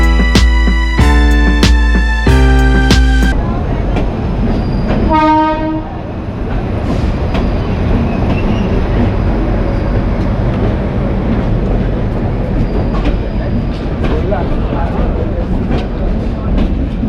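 Arriving at a station, the Goa Sampark Kranti Express sounds several loud, sharp horn blasts, then a shorter one, followed by the continuous rumble and clatter of the passing coaches close by.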